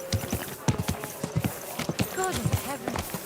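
Hooves clip-clop in an irregular trotting rhythm, close and steady, with a horse snorting and a voice speaking over it, in the video game Kingdom Come: Deliverance II.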